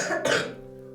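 A single cough with a short throat-clearing burst, close by, then a faint fading tone.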